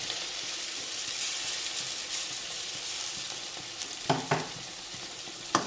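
Tomatoes fry in spiced oil tempering for a suran curry, a steady close sizzle with a few sharp stirring scrapes toward the end.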